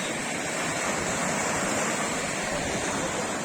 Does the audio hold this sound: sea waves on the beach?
yes